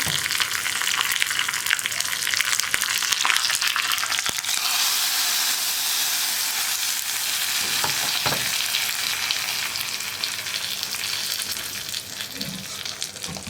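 Curry leaves and dried red chillies fry in hot oil for a tempering, giving a loud, steady sizzle throughout with a few stirring scrapes and faint clinks, and no one talking.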